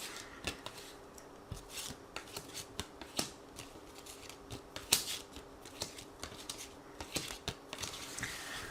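Oracle cards being shuffled and drawn by hand, a run of soft papery riffles and sharp little flicks and taps, close and quiet with no voices.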